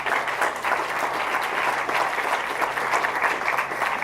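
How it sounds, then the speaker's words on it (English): Applause from a crowd at a memorial service honoring community organizations, dense sustained clapping from many hands filling the room evenly throughout. "Let's give all our organizations a round of applause."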